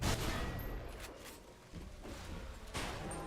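Shotgun fire in the video game BioShock Remastered, several heavy booming blasts in quick succession, loud and close, each followed by a rolling decay.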